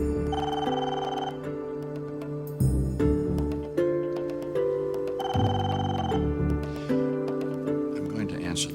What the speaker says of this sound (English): I'm going to answer the phone now.